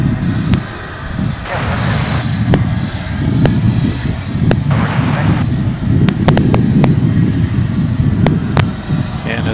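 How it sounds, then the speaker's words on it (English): An Airbus A300 airliner on approach to land at DFW, a steady low jet-engine rumble mixed with wind noise on the microphone, with brief voices and clicks over it. "A300 coming in over on the east side, which I think is that one"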